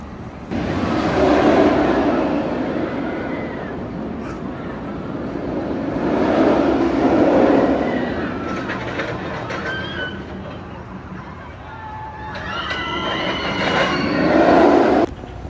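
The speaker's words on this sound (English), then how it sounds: "Here comes a train." A roller coaster train at Six Flags Over Texas rushes by in waves, its broad roar and rattle swelling and fading several times at middle distance over open park ambience.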